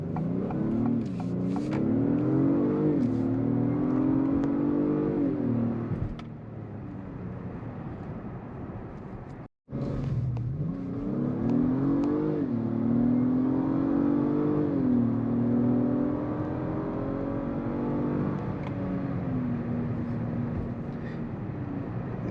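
2022 Acura MDX Type S SUV accelerating on the road, engine note rising in pitch through the gears in two long revving sweeps, interrupted by a brief dropout midway, with steady road and wind noise.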